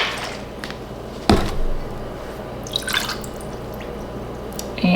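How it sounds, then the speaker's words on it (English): Lemon juice poured into a measuring cup for pepper jelly, heard as scattered close drips and small splashes with one sharp clunk of kitchenware, quiet background hum, no talking. "Another 1/2 cup of lemon juice."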